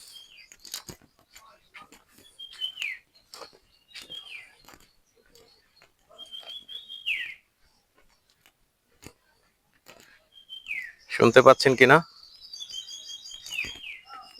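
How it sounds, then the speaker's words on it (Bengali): Several wild birds chirp and whistle intermittently with short calls in Tengragiri Wildlife Sanctuary, Barguna, Bangladesh, while a person speaks briefly, and a loud burst of noise near the end. "বিভিন্ন নাম না জানা পাখির ডাক শোনা যাচ্ছে এখানে"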